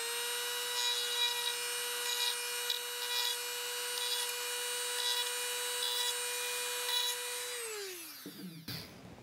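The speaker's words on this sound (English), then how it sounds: "So you could take this and just do a quick grind on the back" A Dremel with an aluminum oxide stone grinds burrs off the back of a pruning clippers blade, a steady high-pitched whine with light scraping contact, close up, then the tool spins down and stops near the end.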